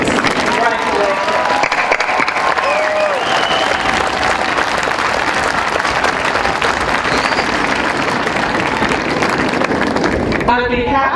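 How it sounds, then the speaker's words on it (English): A crowd applauds new citizens at an outdoor naturalization ceremony at Mount Rushmore National Memorial, with loud, dense, continuous clapping lasting throughout and a brief voice near the very end. "I think we need to have another round of applause for our wonderful new citizens"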